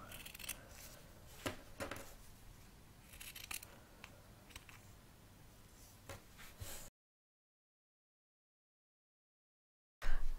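Scissors snipping through small felt pieces, a string of quick close crisp cuts and rustles for several seconds, then a stretch of silence before a loud burst of handling noise at the end.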